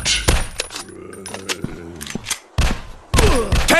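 Gunfire in the Zombies Fire Strike video game on an industrial war map, sharp close bursts of shots with thuds and metallic clatter between them, plus game voice callouts over the action.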